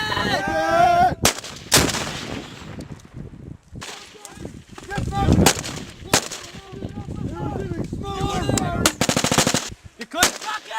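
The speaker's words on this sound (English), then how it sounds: "Fire from a medium machine gun." Medium machine gun fire rings out during U.S. Marine mechanized assault training, loud close bursts of rapid shots with sharp echoing cracks separated by brief pauses, with shouted commands in between.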